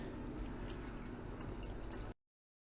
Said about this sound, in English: Now we're going to commence our distilled water rinses.